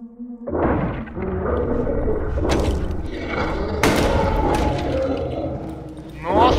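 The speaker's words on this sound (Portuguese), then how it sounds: "Ai, gastei um tiro forte à toa, gente." A gunshot is fired at dogs in the survival horror game Darkwood, heard as several loud booming thuds spread over a few seconds over a dense rumbling game soundscape.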